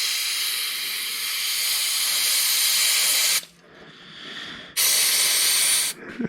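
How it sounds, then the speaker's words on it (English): Carb cleaner sprays loudly through the small screen of a Holley 4160 four-barrel carburetor in two hissing bursts, a long one and then a shorter one, with a brief pause between them. "I'm going to run some carb cleaner through this little screen"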